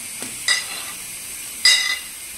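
Paneer stirred into simmering spinach gravy in a pan: two short scraping, sizzling strokes over a quiet steady cooking hiss, close and with no voices.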